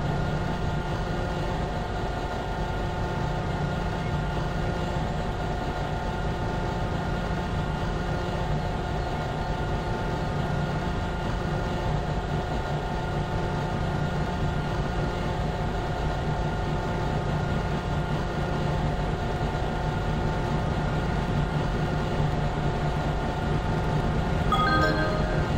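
A train from Milano Centrale pulls into platform 14 at Genova Piazza Principe station, a long, steady rumble and hum of rolling stock that fills the hall at an even level throughout, with no speech.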